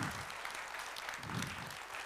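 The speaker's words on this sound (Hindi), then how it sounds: "तो सबसे पहले हम तालियां बजाना चाहेंगे हमारे" A crowd at a business workshop in Agra claps together, a dense, even burst of applause lasting a couple of seconds with no talking over it.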